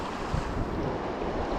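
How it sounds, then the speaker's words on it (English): Cold December wind gusts beside the Deschutes river, a continuous broad rushing roar buffeting the microphone, with moving water blended underneath and no voices. "Man, that wind is cold."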